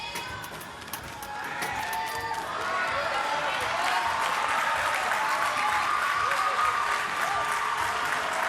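An audience at a World Challenge Cup gymnastics competition claps steadily, the applause swelling after a couple of seconds and holding dense and loud, with a commentator's voice faintly underneath.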